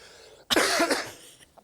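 A person coughs once in a short burst, sharp and fairly close, followed by a faint throat sound, with quiet before and after.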